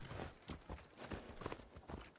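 Horse hooves clip-clop in Assassin's Creed Odyssey, a steady run of hollow, rhythmic footfalls at moderate volume, close and continuous, with no talking.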